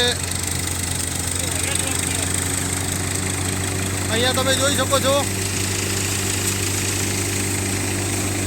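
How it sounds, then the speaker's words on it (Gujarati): A Farmtrac 45 tractor, 2017 model, runs with a steady, close, low engine drone and a constant hum throughout, while someone talks over it. "ફાર્મ ટ્રેક પિસ્તાલીસ ટ્રેક્ટર ચાલુ છે બે હજાર સત્તરનું મોડેલ ટ્રેક્ટર છે"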